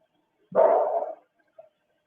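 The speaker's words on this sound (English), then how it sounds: "It should have woke the whole neighborhood up with him outside barking loud like that in the middle of the night" A single drawn-out bark or howl from a dog outside at night, loud and close against near silence, followed by a brief faint yelp.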